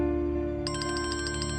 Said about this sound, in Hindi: देखिए जरा, इसका फोन बज रहा है